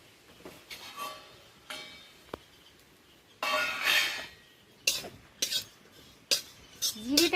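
Cumin seeds dry-roasting in a pan while being prepared for a red lentil mash: a utensil stirs and scrapes the metal surface in irregular bursts, with soft rattles and clinks between quieter pauses, close and alone.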